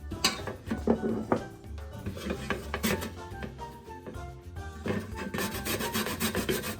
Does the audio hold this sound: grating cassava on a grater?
yes